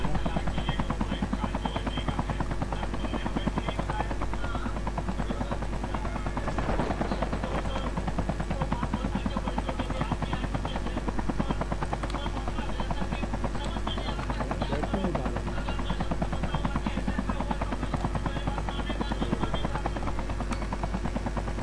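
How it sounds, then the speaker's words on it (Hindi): A helicopter in the Call of Duty video game drones loudly and steadily with a constant rotor hum through the whole stretch, while voices talk over it. "हेलीकॉप्टर ऊपर ले"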